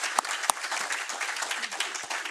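Applause from an audience at a scientific annual meeting, a continuous mid-level patter of clapping with two sharp, close claps standing out early on.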